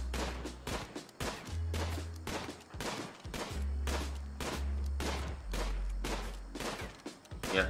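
Rapid bursts of gunfire crackle in the colony survival game RimWorld, a dense stream of repeated close shots over a deep humming music bed, steady and loud throughout.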